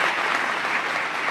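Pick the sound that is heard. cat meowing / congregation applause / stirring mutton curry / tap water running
congregation applause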